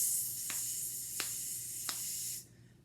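A person's voice imitates a sizzle, holding one long, even hiss for a whole note of four beats. Faint taps mark the beats before it cuts off sharply.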